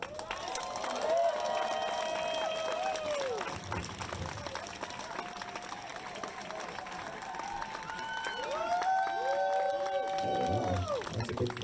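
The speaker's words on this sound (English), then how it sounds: "That's a big crowd." A large crowd at a Seattle Education Association rally applauds and cheers for a speaker taking the stage, a steady roar of clapping and whooping voices throughout, with louder swells toward the end.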